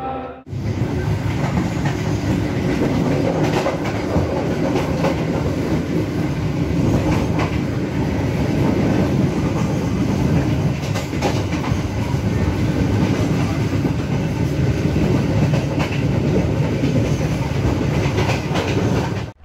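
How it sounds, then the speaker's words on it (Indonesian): Sritanjung passenger train running on rails toward a junction, a steady loud rumble with rhythmic wheel clatter on the track that continues unbroken for the whole stretch, with no voices. "setelah ini kereta Sri Tanjung akan mengambil percabangan yang ke arah lurus"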